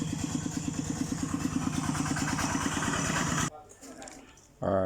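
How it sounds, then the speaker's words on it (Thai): A Honda MSX motorcycle engine idles steadily with a low, rapid putter, then cuts out abruptly, leaving quieter rumbling before a loud burst returns at the end. "เราก็จะสตาร์ทเครื่องยนต์ให้ดูนะครับ"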